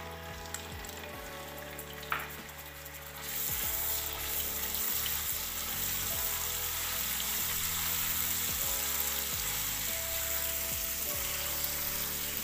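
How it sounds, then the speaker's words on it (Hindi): Garlic ginger paste hitting half a cup of warmed oil, a quiet start with faint clatter that bursts into a loud, steady, close sizzle and continues unbroken. "लहसुन अदरक का पेस्ट डालेंगे।"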